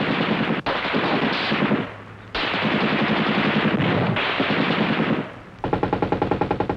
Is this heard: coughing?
no